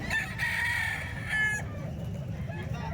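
Roosters crow repeatedly at a busy chicken market in Calumpit, with several long cock-a-doodle-doo calls in the first second and a half over steady crowd noise and low rumble; faint clucking continues afterward.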